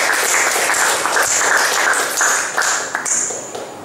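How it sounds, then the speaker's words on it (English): A church congregation claps and cheers loudly in praise, dense rolling applause that swells and dips in waves for several seconds, with no speech over it. "Can we give a clap of praise our God?"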